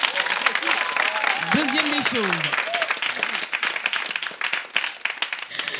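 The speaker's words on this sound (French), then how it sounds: "est-ce qu'on peut applaudir pour ça?" Crowd applause at a gathering honoring a master chef, broad clapping from an audience that runs under a voice speaking over it and continues steadily after.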